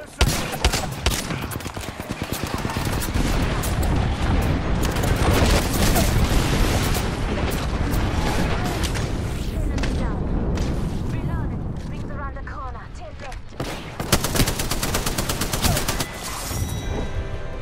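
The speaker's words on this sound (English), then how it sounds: "we've got an airstrike" Airstrike explosions in the battle royale shooter Apex Legends, a dense sustained roar of booms and rapid gunfire rumbling for many seconds, dipping briefly, then another loud burst of blasts.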